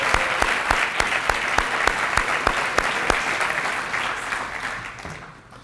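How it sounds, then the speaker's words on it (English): A room full of people at a high school athletic awards ceremony applauds the senior tennis team, loud sustained clapping that fades toward the end. "Let us applaud you."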